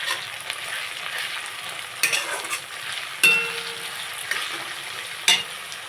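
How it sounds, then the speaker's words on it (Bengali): Halved dry red chilies fry in hot oil for a fish curry, giving a steady close sizzle with a few sharp pops and spatters along the way. "একেবারে ভেজে নেব।"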